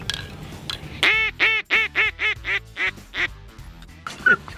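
A duck call quacks in a rapid series of about eight loud, nasal notes, close up and rhythmic, followed by a couple of softer trailing quacks.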